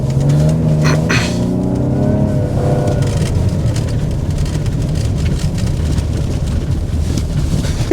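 A 2021 Ford Explorer Platinum plug-in hybrid with 336 kW accelerates, its engine note rising in pitch as it pulls, then settling into a steady road and engine roar inside the cabin.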